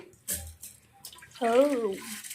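Water pours briefly into a bowl in a home kitchen while rice flour vadiyalu are being prepared, giving a short soft splash followed by a voice talking close by.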